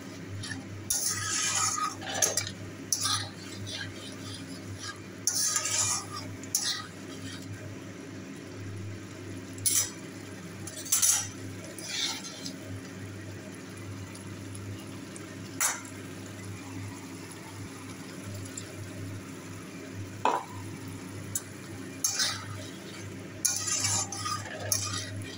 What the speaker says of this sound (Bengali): জল দিয়ে কষাবো, অল্প করে জল দেবো আর কষাবো।